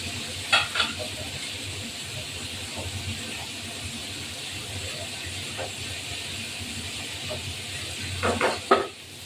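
Steady sizzling of tilapia fish frying in hot oil runs throughout, with a few louder crackling bursts near the end and faint clinks.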